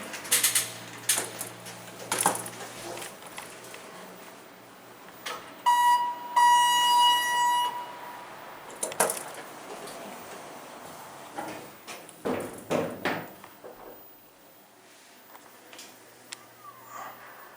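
A ThyssenKrupp hydraulic elevator descending at a city center parking garage: mechanical clunks and door or car movement, with a sustained electronic chime ringing partway through, then quieter running noise.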